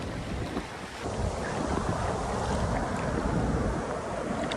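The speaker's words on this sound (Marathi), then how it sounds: "मोठ्या मोठ्या लाटा येतात आता संध्याकाळ झाले ना" Big evening waves roll in at Calangute beach in Goa, a loud continuous roar of surf with heavy wind buffeting the microphone, steady and close after a slightly quieter first second, no voices.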